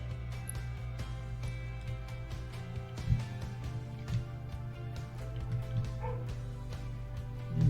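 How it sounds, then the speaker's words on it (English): A pet dog making soft yips and whimpering bow-wow sounds indoors, several short moderate calls scattered over a steady low hum, no talking. "And that's my dog."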